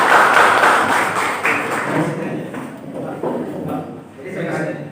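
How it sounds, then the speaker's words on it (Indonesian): A room of students and faculty applauds at a campus student-affairs evaluation meeting, dense clapping loudest at the start and thinning over five seconds, with a few scattered voices mixed in. "Ya, tepuk tangan dulu Pak Wadek 2 ya."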